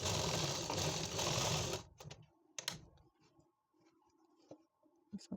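Domestic sewing machine running a line of stitches on an Afghani plazzo, a dense steady whirring burst up close followed by quieter clicks and handling noises as the fabric is adjusted.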